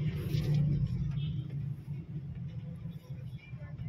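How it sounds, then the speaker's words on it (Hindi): A car rumbles low and steady as it pulls onto a highway, with engine noise strongest at the start and then easing, while someone talks over it. "मैं गाड़ी एकदम हाईवे पे ले रही हूँ"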